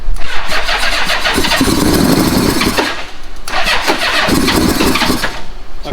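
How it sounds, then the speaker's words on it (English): An old Honda Goldwing motorcycle engine cranks and catches twice, each attempt a loud, close burst of rough firing that sputters and dies before the second try. "And then I hit the switch and it wants to start."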